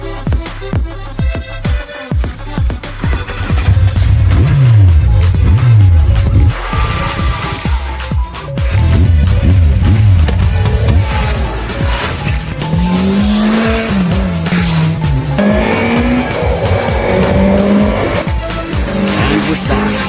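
A restored Kawasaki Z1000 motorcycle, weighing about 279 kilograms, roars on a test ride, its engine revving loudly with rising and falling pitch through repeated throttle swells, close and continuous.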